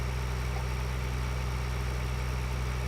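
In Farming Simulator 2013, a tractor engine idles with a steady, loud, unchanging mechanical drone and no talk over it.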